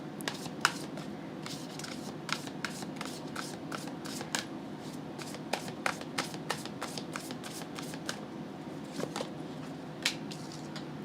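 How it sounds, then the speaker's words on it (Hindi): Tarot cards being shuffled and drawn close up: quiet, crisp rustles and a string of sharp card flicks and snaps at an irregular pace, with no talking. "मैं कुछ और भी कार्ड्स यहाँ पे निकाल रही हूँ।"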